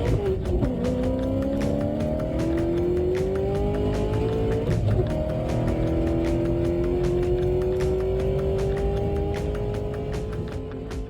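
American muscle cars race in a quarter-final heat, engines droning loud and close, with pitch climbing in long rising sweeps as they accelerate through the gears, plus occasional sharp clicks over the roar.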